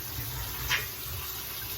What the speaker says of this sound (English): So I'm going to rinse these beans, drain them and rinse them.